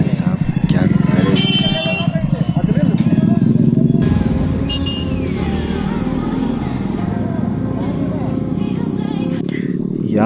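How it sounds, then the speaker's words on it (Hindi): Rush-hour street in Bhagalpur crowded with cars and motorbikes, engines droning close by and horns tooting again and again, while someone talks over the din. "सब गाड़ी, सब बाइक्स एक रास्ते पे ही चल रहे हैं।"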